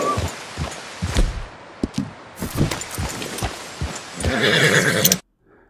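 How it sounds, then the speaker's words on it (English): A Sooty Brown Buckskin Dutch Warmblood in Red Dead Redemption 2 gives loud, close whinnies and snorts over scattered clip-clopping hooves, ending in a sharp cutoff to silence. "This prospector, by coincidence, has a Sooty Brown Buckskin Dutch Warmblood."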